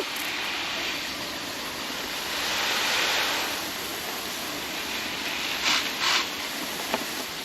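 Water sprayed to moisten seed-starting soil, a close, continuous airy hiss that swells briefly partway through, with a few short bursts near the end.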